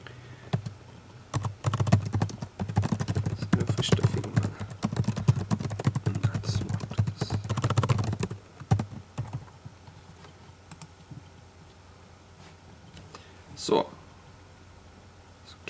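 Rapid clattering keystrokes on a computer keyboard while a blog post title is typed, a dense burst of typing for several seconds that then stops, followed by quieter room tone and a single click.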